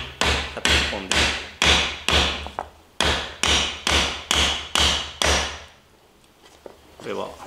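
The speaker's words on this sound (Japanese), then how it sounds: "こういう形で、金槌の丸い面を使って" The round face of a hammer drives a wooden stool joint together in about ten sharp, evenly spaced blows on wood, loud and close, then a short quiet pause and a faint knock.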